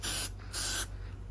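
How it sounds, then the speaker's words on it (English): An aerosol can sprays Quick Check guide coat onto a metal Mustang GT350 hood scoop in two short hissing bursts, close and loud, separated by a brief pause. "So just real quick, we're gonna spray some on."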